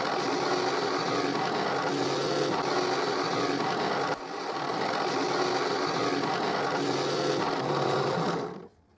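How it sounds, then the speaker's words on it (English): Steady mechanical whir of a drill boring a hole through a wooden choker piece, running continuously with a short dip midway before stopping. "I drill the hole."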